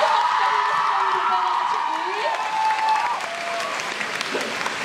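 An audience in a packed concert hall in Taipei gives a steady round of applause with some cheering. A host talks over it, and a tonal line sits in the background.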